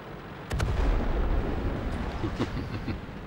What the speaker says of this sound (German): Hübsche Explosion.